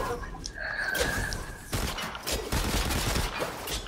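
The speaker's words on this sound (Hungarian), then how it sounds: "Valamit lövöldöz, hallom, hogy lövöldöz." Bursts of automatic gunfire in a Fortnite match crackle at a moderate distance, rapid volleys broken by short pauses, with a few dull thuds mixed in.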